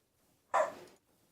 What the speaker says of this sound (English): Dogs be barking again.